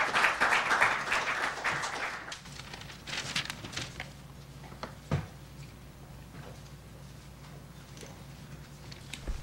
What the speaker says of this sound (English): Let's welcome our speakers with a round of applause